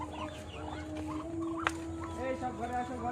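Chinese ducks on a small farm, giving a stream of close, overlapping honks and chattering calls that continue steadily over a noisy farmyard background.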